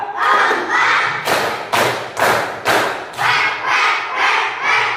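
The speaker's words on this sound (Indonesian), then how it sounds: "Tepuk empat." Elementary schoolchildren in a classroom chant a clapping rhythm together, with a run of several loud, close, evenly spaced group claps cutting through their voices.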